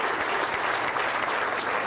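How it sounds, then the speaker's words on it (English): Morning audience at a Women in Business breakfast event giving a round of applause, a continuous, full wash of many hands clapping at steady loudness throughout, with no talk over it. "So how about a round of applause for time management here this"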